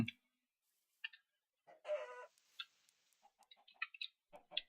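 Chickens in the video game Minecraft clucking in short, separate bursts with gaps between, fairly close and clear, with no talking over them.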